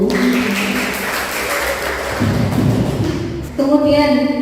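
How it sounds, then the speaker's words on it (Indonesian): An audience applauds at a university teaching presentation, with dense clapping throughout that swells near the end while a voice talks over it. "Tepuk tangan dulu."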